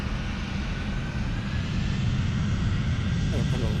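Airliner engine noise from an FSLabs A321 in MSFS 2024, a steady broadband jet rumble holding at a constant level throughout, with no speech over it.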